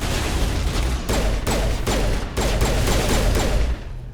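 Gunfire in the Mass Effect video game, bursts of rapid shots in several volleys separated by short pauses, loud and close with no talk over it.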